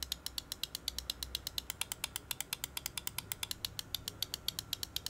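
Rapid, evenly spaced clicks from the buttons of a Razer DeathAdder V3 Pro gaming mouse, a crisp, slightly muted mechanical ticking repeated many times in quick succession, close and fairly quiet with no talking.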